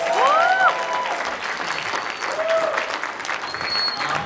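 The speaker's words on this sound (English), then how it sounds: "Would you give them another round of applause?" Another round of applause from a church audience after a hula and choir performance, steady clapping that runs throughout, with a few whoops and vocal cheers rising over it.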